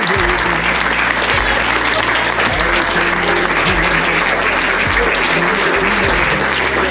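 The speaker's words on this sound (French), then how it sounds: "Je pense qu'on peut largement les applaudir." A crowd at the Corsa di l'Oriente race applauds the organisers, volunteers and sponsors, loud sustained clapping with a low droning hum running steadily underneath.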